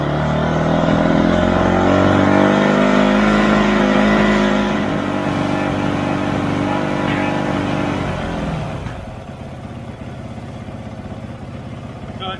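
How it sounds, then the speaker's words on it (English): A snow bike engine runs steadily, then is given throttle and revs up in a loud, sustained drone before easing back to a lower, rougher idle, close to the listener. "I'm going to fire the bike up and we'll see if the temperature climbs"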